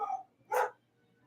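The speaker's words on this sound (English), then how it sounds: "I set the dogs off." Two short dog barks at some distance in a house during a live chat stream, the first higher and yappier, the second a louder, fuller woof, with quiet afterward.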